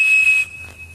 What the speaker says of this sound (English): the Captain Crunch whistle